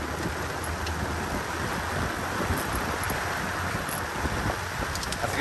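Steady rain falls during a fishing trip where a snapper has just been caught, an even, continuous hiss without pause.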